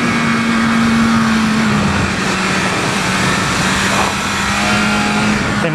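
A 2020 BMW S1000RR superbike runs hard on a race track, its engine holding a loud, steady high-pitched drone throughout with only slight shifts in pitch, no voices over it.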